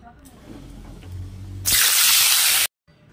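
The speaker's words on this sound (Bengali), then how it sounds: "এবার আমি গরম তেলটার মধ্যে কালো জিরা ফোড়ন দিয়ে দিব" Black cumin seeds dropped into hot mustard oil burst into a loud, bright sizzle that holds for about a second before cutting off abruptly, preceded by a low background hum and soft handling.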